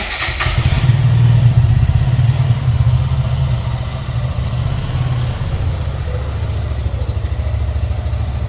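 A motorcycle engine runs close by, a loud steady low rumble that swells briefly at the start, then settles into an even idle-like drone with no talk.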